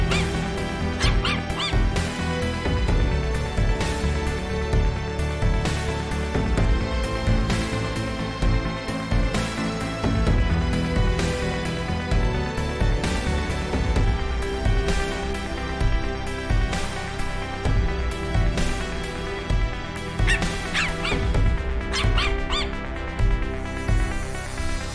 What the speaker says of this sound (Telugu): గదిలో నుంచి కుక్క అరుపు వినిపించింది.